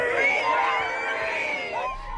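A crowd waits outside a courthouse, its broad, steady murmur of voices and scattered shouts carrying at an even level throughout, with cheering-like swells in the mix.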